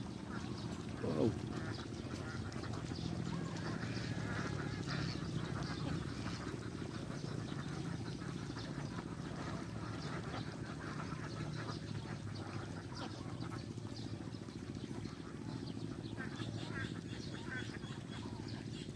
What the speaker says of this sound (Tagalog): Daming ibon, no?